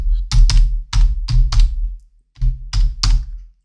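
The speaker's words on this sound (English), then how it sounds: "we'll type in here" Keys on a computer keyboard are typed in a short run of close, distinct clacks, a brief pause, then a few more taps, with no talking.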